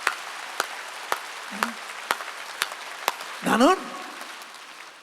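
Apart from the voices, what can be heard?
congregation clapping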